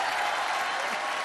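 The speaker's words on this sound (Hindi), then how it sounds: "जोरदार तालियां पुनीत दत्त के लिए।" Crowd applause from a studio audience at a Hindi stand-up comedy contest, loud continuous clapping for a contestant over the whole brief moment.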